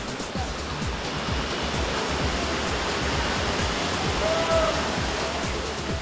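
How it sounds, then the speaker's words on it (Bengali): Nafakhum waterfall in Bandarban during the monsoon sends water crashing onto rocks in a constant, heavy roar, loud and unbroken throughout, with no voices over it. "বর্ষাকালে তীব্র গতিতে পাথরের উপর পানি আছড়ে পড়ার শব্দ"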